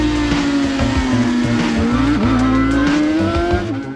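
Suzuki RG500 Square 4 two-stroke racing motorcycle engine, a loud steady high-pitched howl held near one pitch with small dips and rises as it runs at speed, fading slightly at the end, no talking.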